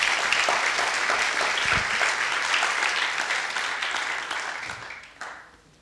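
Congregation in a church service applauding together, a steady dense wash of clapping from many hands that holds for several seconds, then thins and fades out toward the end.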